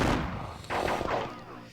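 Musket volleys from line infantry in a Napoleonic-era wargame, the Battle of Kaiserslautern, crackle out as a few ragged bursts over a rumbling battlefield bed, moderately loud with no voices.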